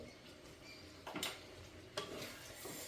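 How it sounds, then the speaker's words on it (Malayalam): A spoon stirs mango pickle with jaggery powder in a pan, making quiet scraping and faint sizzling with two brief louder scrapes about a second apart, close by and soft, with no talking. "അത് ഇട്ടിട്ടൊന്ന് ഇളക്കി റെഡിയാക്കി ഇങ്ങോട്ട് എടുക്കണം."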